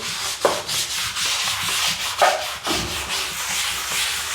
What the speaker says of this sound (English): Do you want me to scrub?